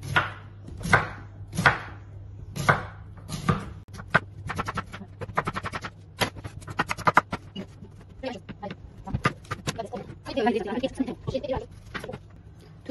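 A knife chops fennel on a cutting board with loud, close, sharp thuds. A few spaced strokes open the sequence, then rapid runs of fine slicing follow, some in uneven bursts.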